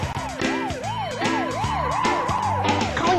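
A runaway ambulance's siren wails in loud, steady rising-and-falling sweeps, repeating about every half second with no talking.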